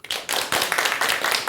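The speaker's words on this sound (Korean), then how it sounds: "한번 되살아나도록 박수를 한번 쳐드리십시오" An audience at a Buddhist lecture claps together, a close, loud burst of hand claps in several uneven waves with short gaps between them, no voices over it.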